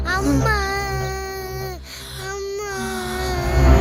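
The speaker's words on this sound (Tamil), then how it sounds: "குழந்தை அழுற சத்தம் கேக்குது" An infant cries in long, wavering wails with a short gasp between them, loud and close, with no talk over it.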